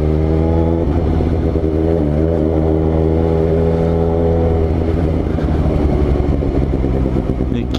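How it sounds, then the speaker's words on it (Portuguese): A new Suzuki GSX-S750 motorcycle engine rumbles steadily and loudly up close while riding through heavy traffic, its deep throb holding throughout with a slight rise and fall in revs, and a voice talks over it. "E que ronco gostoso de ouvir"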